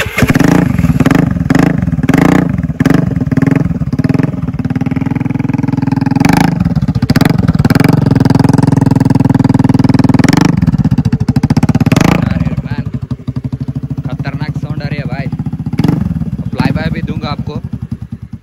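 Up close, a Honda Dio scooter with an SC Projector exhaust revs loudly and unevenly in repeated bursts, then settles toward a rough burbling idle while people talk over the engine.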